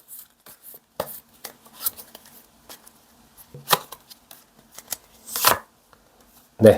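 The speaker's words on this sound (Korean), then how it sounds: "우리 관계 흐름 카드 뽑아볼게요" Tarot cards are shuffled and drawn close by, with soft riffles, light slaps and snaps of card on card spaced out over a quiet background.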